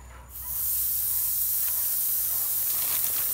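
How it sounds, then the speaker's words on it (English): Burgers sizzle on a Lodge Sportsman's Grill: after a brief quieter moment, a loud, steady, hissing sizzle rises and holds evenly to the end. "First thing I'm doing is cooking some burgers."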